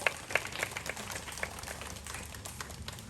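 Audience applause at a Night Safari owl show, following a presentation of a Eurasian eagle owl; faint, scattered clapping spreads across a distant-sounding crowd for a few seconds.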